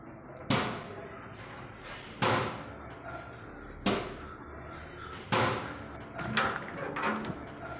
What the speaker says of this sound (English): we can see a hand banging the back of the open door